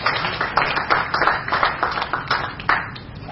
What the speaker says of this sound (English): So a big round of applause for entire group.